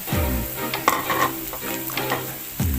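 Ginger and dried chili sauté in a pan for a Filipino tilapia dish, giving a continuous close sizzle with a few stirring knocks from a utensil. No voices.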